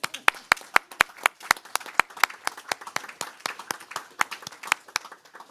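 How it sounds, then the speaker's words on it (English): Audience applause at a community college board of governors meeting, with steady, moderately loud rapid clapping from a small crowd lasting the whole stretch. "I think that deserves a round of applause"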